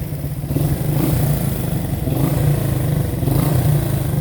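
A 1970 Honda CB100 Super Sport, a small 100 cc motorcycle, idles and runs steadily close by, its low thrumming engine note rising slightly in a few gentle throttle swells, with no voices.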